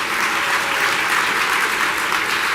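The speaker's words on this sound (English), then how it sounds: "give one more heartfelt round of applause to our incredible class of" At an awards luncheon, a room full of people claps in sustained, loud applause that holds evenly for the whole moment.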